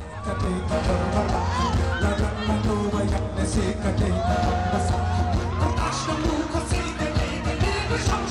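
A festival crowd at a rock performance cheers, whoops and yells continuously over loud, dense background music, with some talking in the mix, at India's first cherry blossom festival.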